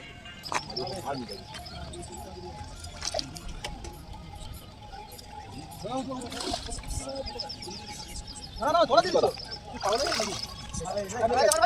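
A fishing net dips into a pond, making splashes and sloshing water at a newly opened fishing pond, with people talking throughout.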